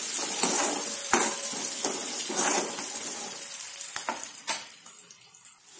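Onion and turmeric fry in hot oil for a methi rassa bhaji, a steady close sizzle with occasional stirring scrapes and clicks from a utensil, no talking.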